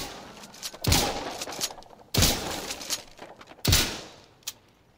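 Shotgun fired from the hip in the video game Insurgency Sandstorm: three loud booming blasts about a second apart, each trailing into a reverberant tail, followed by a small mechanical click.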